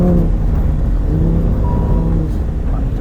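A Lamborghini Huracan Sterrato driven hard through cones: a loud, steady engine drone with wind and road noise, and someone talking over it.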